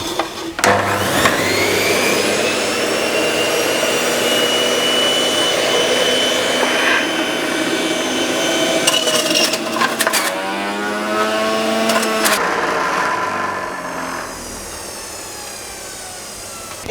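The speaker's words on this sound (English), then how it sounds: "And then we're going to go straight into the juicer with this." Electric juicer whirring steadily as it processes split rhubarb stalks for a dinner party dish, a loud continuous motor drone running alone throughout with a brief shift in pitch partway.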